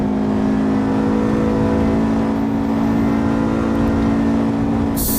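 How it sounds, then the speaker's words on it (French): Racing-game BMW E90 race car in Assetto Corsa Evo, played in VR, accelerating hard toward about 150, its engine a steady loud drone held at high revs for the whole stretch. "ça accélère pas mal, on est à 150 là déjà"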